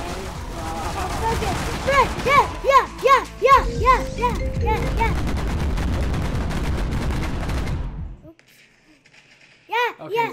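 Rapid bursts of gunfire ring out in a Roblox zombie game, repeating in quick volleys over busy game noise, then stop and briefly return. Excited voices talk over the shooting.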